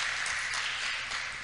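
A church congregation claps together in praise during a worship service, a steady, dense wash of applause from many hands.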